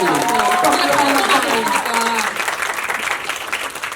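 Sustained applause from reporters at a press event, steady at first and then thinning slightly, with some voices mixed in.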